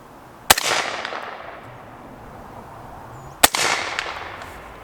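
Two sharp, loud rifle shots from a 12.5-inch 8.6 Blackout AR-10 fired at a 100-yard target, spaced about three seconds apart, each with a ringing outdoor echo that fades away.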